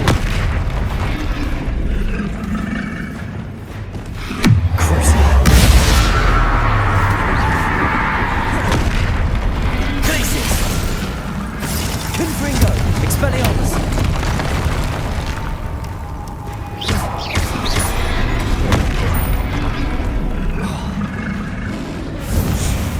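Confringo explosion spells blasting in a Harry Potter video game, with a heavy boom near the five-second mark followed by sustained rumbling blasts and effects under a dense, loud soundscape.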